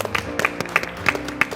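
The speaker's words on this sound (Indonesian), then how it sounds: "Tepuk tangannya boleh?" An audience at a televised stage event gives brief applause, heard as a quick series of sharp, close hand claps over a low crowd murmur.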